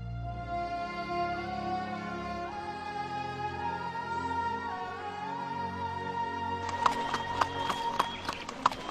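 A horse's hooves beat over sustained musical score, with a quicker run of clip-clop strikes entering near the end.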